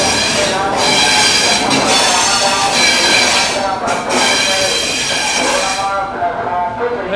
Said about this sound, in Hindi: बगल से अभी डिपार्चर ले रही है अपनी पटना जयनगर इंटरसिटी एक्सप्रेस